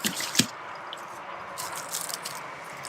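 Water sloshes and splashes faintly in an anti-spill travel dog bowl, with one sharper splat early on followed by quieter, scattered drips and squishy liquid movement close by.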